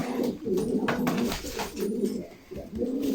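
Flight pigeons, a high-quality Turkish flying breed, coo in a steady low throaty stream, close and fairly loud, with soft rustling underneath and no talk.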